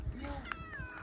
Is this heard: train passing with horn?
no